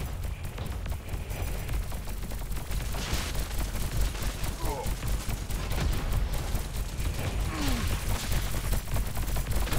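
Continuous gunfire in the shooter game Scathe, a dense steady barrage of overlapping shots and booms filling the whole stretch at constant loudness, with no pauses between volleys.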